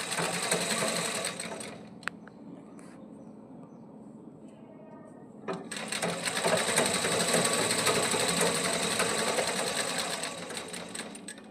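A sewing machine stitches a seam in one continuous pass, whirring loudly, stopping briefly in the middle with a few clicks, then running steadily again until the end, with no talking.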